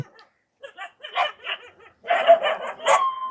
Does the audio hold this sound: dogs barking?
yes